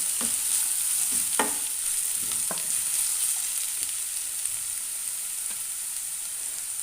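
Vegetables and shredded cabbage frying and being stirred in a pan, a steady bright sizzle with a few scraping stir strokes, close and continuous with no voices.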